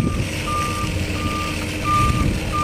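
A City of Cornwall municipal truck turning around at a construction site gives a steady series of reversing beeps, evenly spaced, over a rumbling engine and outdoor site noise, with no talking.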